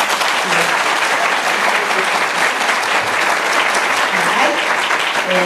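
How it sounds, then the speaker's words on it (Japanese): Loud, dense applause from a studio audience in Sapporo fills the whole stretch, steady and unbroken, with some voices mixed in underneath. "割れんばかりの拍手をありがとうございます。"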